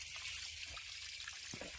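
Irrigation water mixed with jeevamrut flows onto a natural wheat field, making a soft, continuous trickle and gurgle outdoors, fairly faint and with no talk.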